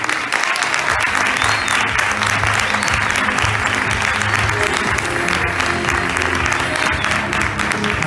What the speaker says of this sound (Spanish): Un aplauso enorme para Juan.